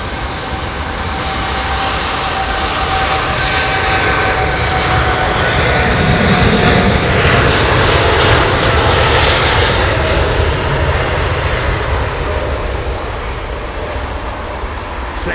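A Boeing 787 Dreamliner's jet engines roar loudly at Heathrow Airport, a broad, sustained rumble that swells toward the middle and then eases slightly.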